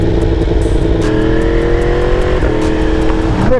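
A 2023 Yamaha MT-10 motorcycle with an Akrapovic exhaust revs hard and quickshifts through the gears, its loud, close engine note dropping in pitch at each crisp shift, with no talk over it.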